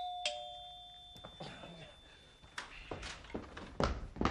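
A doorbell chimes once indoors with a clear ringing tone, followed by footsteps and light knocks or taps that grow louder.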